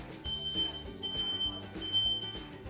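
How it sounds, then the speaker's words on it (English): A smoke alarm set off by cooking bacon beeps in a steady repeating pattern, high and piercing, over a busy background of music or kitchen noise. "You're not cooking until you're setting off the fire alarm."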